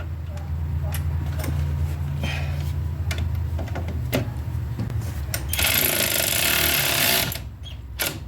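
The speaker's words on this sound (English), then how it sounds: "See if we can get a battery powered ratchet on this." A battery-powered ratchet works a bolt loose on a car wheel hub assembly, giving a run of rapid mechanical clattering with sharp knocks and a brief louder whirring burst near the end.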